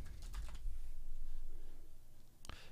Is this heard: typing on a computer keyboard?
yes